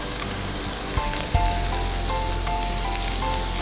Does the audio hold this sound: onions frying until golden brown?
yes